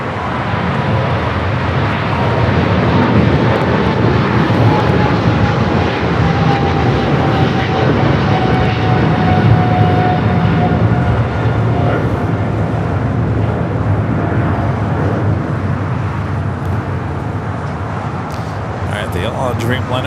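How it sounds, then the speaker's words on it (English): A Qantas Airbus A380 arrives on the south side at LAX, its engines a broad, loud, sustained roar rumbling continuously for twenty seconds with steady traffic-like noise around it. "got that Qantas A380 Super up next for arrival here on the south"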